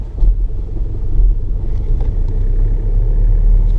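A manual car's engine rolls along in second gear with no throttle, giving a deep, steady low rumble with slight wind buffeting at the microphone and no voices.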